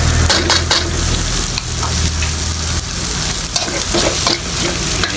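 Onion frying in a hot pan for sisig, a loud close sizzle with busy stirring and scraping of a utensil throughout, no voices.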